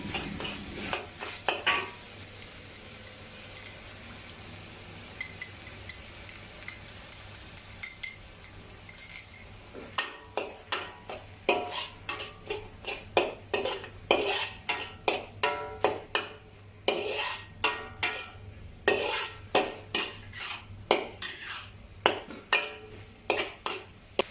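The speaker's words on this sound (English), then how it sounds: "Pour the seasoning mixture into the wok and mix thoroughly with the meat." Pork and seasoning stir-fried in a wok for Thai basil pork, with a steady sizzle under repeated sharp scrapes and clinks of a spatula against the pan, quick and rhythmic, close and loud.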